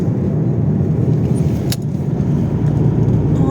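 A car drives along at steady speed, its low engine and road rumble continuous and close from inside the cabin, with a faint brief click partway through and no talk.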